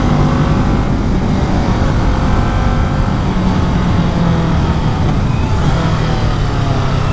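A 2020 Kawasaki Ninja 650 motorcycle engine drones loudly and continuously while riding at high revs, with steady wind rush over the buzzing exhaust.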